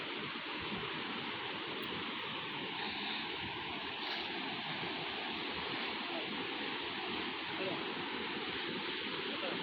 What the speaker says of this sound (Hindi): देखंतु बहुत जोरे पानी आसी।